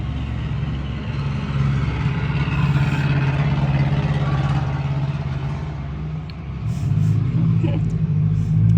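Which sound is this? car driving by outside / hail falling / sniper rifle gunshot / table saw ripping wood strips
car driving by outside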